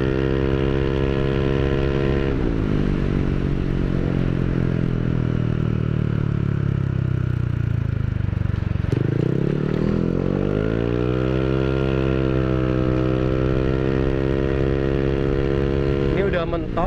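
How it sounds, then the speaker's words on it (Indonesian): A Yamaha Aerox 155 scooter fitted with a new exhaust idles, then revs up and holds high, drops away and climbs again in long loud sweeps, with a voice speaking over the engine. "Ini udah mentok, tapi dia itu suaranya nggak pecah ya"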